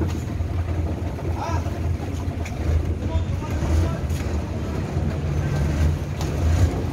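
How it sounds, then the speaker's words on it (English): Steady low rumble of a boat riding on the Chao Phraya River in Bangkok, Thailand, with continuous engine and water noise and some wind buffeting throughout, no clear speech. "I'm now on a boat in Bangkok, Thailand."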